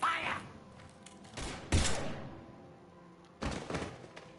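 Gunfire in the video game Mass Effect 3: a few heavy shots or bursts spaced apart over low background game sound, fairly distant and muted.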